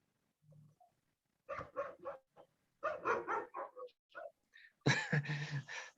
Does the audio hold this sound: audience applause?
no